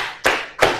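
Classroom students clapping their hands in unison: two sharp, close claps about a third of a second apart.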